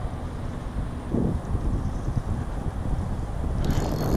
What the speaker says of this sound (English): Got some really nice wind blowing back into this corner here.